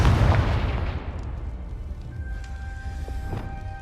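A Confringo blasting spell from Hogwarts Legacy on PS4 Pro goes off in a loud, close explosive burst that rumbles and fades over several seconds, followed by faint ringing tones.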